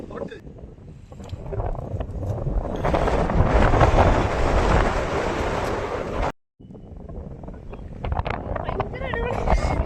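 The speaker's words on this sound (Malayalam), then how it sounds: "അടിപൊളി കാറ്റ്" Strong wind roars and buffets the microphone on the Ponmudi hilltop during the monsoon, loud and gusty throughout, with a brief dropout and voices faintly mixed in.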